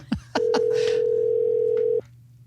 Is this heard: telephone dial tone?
yes